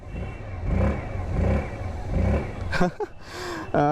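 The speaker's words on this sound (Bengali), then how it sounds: "বাকি এক্সস্ট সাউন্ড শুনে নিন একবার আপনারা।" Engine exhaust of a 2025 Hero Destini 125 Xtec scooter revving in bursts, close and loud, with a few sharp clattering sounds near the end.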